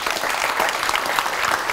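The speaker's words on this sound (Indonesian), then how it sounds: "Boleh tepuk tangan untuk Angel Elga." Steady applause from an audience, dense clapping filling the whole stretch at a moderate, even level with no voices standing out.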